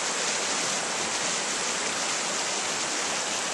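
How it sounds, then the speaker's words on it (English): Mountain trout stream flowing steadily at the headwaters of Hunting Creek, a dense, continuous rush of water close by with no voices or other sounds. "This is a pretty good trout fishing stream."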